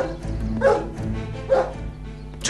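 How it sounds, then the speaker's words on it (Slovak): A dog indoors gives a few loud, close barks and yips spaced over a couple of seconds, set against steady low background sound. "Čo robí v dome ten prekliatý pes?"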